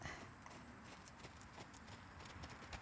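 Standardbred horse cantering over ground poles or small jumps in a riding session, steady hoofbeats repeating through the clip at a moderate distance, fairly faint under a noisy background.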